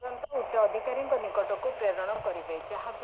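A small survival gadget radio plays a song in the middle of a forest, coming through thin and tinny with a warbling voice and soft static behind it.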